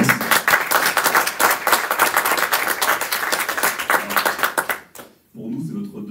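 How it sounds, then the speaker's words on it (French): An audience applauds a guest economist at a youth political event, dense sustained clapping filling the room for about five seconds before cutting off, followed by a low murmur. "J'aimerais encore un petit tonnerre d'applaudissements pour l'invité exceptionnel qu'on a"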